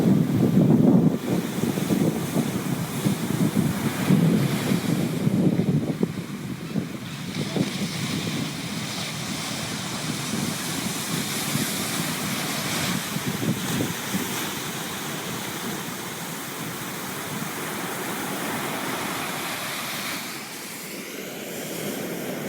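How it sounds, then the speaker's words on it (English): Ocean waves wash steadily onto a sandy shore, a continuous broad roar of surf mixed with wind rumbling against the microphone, loudest in the first few seconds and then settling to an even wash. "We will take a moment for you to just listen to the beloved ocean of Gaia's body."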